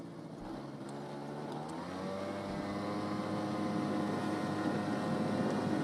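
A Honda Aero 50 scooter rides on wet roads, its small engine droning and rising steadily in pitch as it accelerates, with a steady hiss of tires and road noise underneath.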